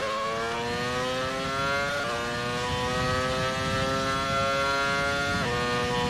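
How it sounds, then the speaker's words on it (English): A video game Formula 1 car engine drones at steady high revs, its pitch climbing then dropping briefly at each gear shift before rising again. "down low the revs actually in this thing sound good,"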